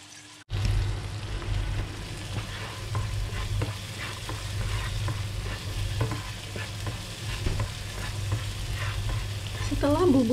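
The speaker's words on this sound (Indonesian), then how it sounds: "Tumis terus sampai mengeluarkan aroma harum dan bumbunya mengering." A ground spice paste for mutton curry sizzles in hot oil and is stirred steadily with a spatula. It makes a continuous close frying hiss broken by regular scraping strokes, and nobody speaks.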